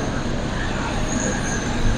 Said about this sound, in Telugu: ట్రైన్ కూడా స్టార్ట్ అయిపోయింది